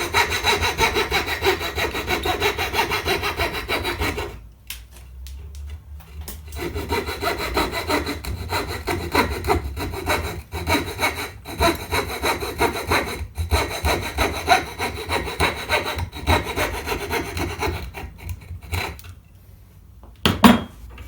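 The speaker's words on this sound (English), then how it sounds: "I'm just going to cut the bulk of this out with a little coping saw" A small coping saw cuts out dovetail waste in wood with a steady back-and-forth rasping rhythm, close and loud, briefly pausing around the middle and near the end before resuming.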